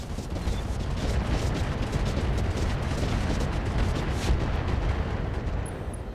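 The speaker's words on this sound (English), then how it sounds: "We're going to fire our MRMs at the Hunchy." A volley of MRM missiles fired at a Hunchback mech in the video game RogueTech, heard as a dense, continuous roar of launches and rumbling explosions that stays loud throughout.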